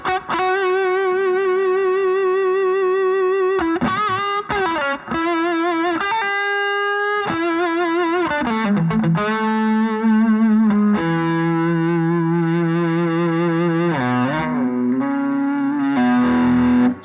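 Reverend Reeves Gabrels signature RG-SUS electric guitar on its bridge pickup, with a deep low-octave effect, plays a loud, distorted riff of held notes and quick slides, with no voices.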